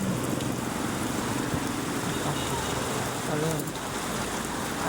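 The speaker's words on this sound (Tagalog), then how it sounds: "Ayan, umuulan." Rain in Taytay, Rizal falls in a steady, dense patter on surfaces, constant throughout, with faint background sounds and a hint of distant voices.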